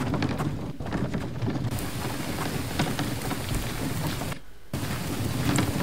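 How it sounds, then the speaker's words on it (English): Steady rain with rumbling thunder in the survival video game The Last Village, a continuous dense wash that breaks off briefly near the end and then resumes, heard alone with no voices. "Oh, maybe raining is coming."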